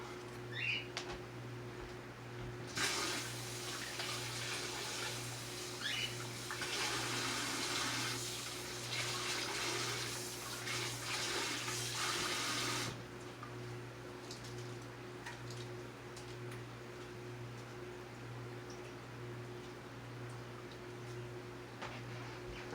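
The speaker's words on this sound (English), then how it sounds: "let me rinse this off." Tap water rinsing over a potted orchid during repotting: a steady, close rush of running water lasting about ten seconds, then stopping, with a low hum continuing underneath throughout.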